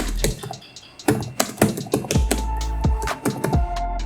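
Computer keyboard typing, rapid close clicks and key taps in uneven bursts, with a steady low hum underneath and no talk.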